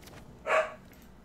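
A lone dog lets out one short bark indoors, fairly faint and heard alone against a quiet room.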